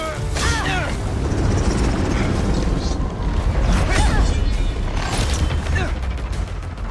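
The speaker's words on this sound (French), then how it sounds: "Faut que j'arrête cette hélice!" Helicopter rotor from the Spider-Man 2 video game, a loud, continuous whirring wash mixed with busy mechanical clatter and action sounds, with in-game voices over it throughout.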